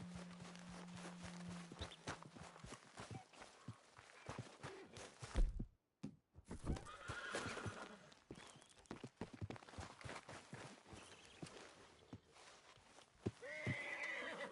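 A horse whinnies in a Red Dead Redemption 2 game scene, amid clip-clopping hooves, footsteps and scattered thuds, with a short silent gap midway.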